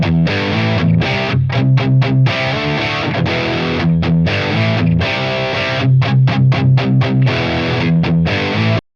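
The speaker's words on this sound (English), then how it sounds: "This is a recording of my actual Friedman Pink Taco Mark II" A distorted electric guitar played through a Friedman Pink Taco Mark II amp into a 2x12 cabinet with Celestion Vintage 30 speakers, close-miked with a Beyer M160 ribbon mic; loud, dense chugging riffs with rhythmic palm-muted stops and no talk.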